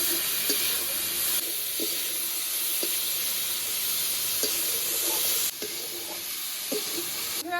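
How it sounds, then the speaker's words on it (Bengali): Yardlong beans and potatoes fry in a pan with a constant close sizzle, punctuated by regular light taps and scrapes of stirring. "এবার বরবটি সিম আর আলুটা ভাজবো"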